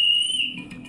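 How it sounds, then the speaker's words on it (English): A single sharp whistle blast from a basketball coach in the visual novel A Place To Call Home, shrill and loud, held for about half a second before trailing off, heard alone. "Whistle blow."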